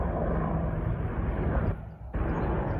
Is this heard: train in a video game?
no